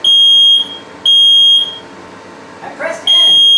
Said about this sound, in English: just in case the smoke alarm goes off.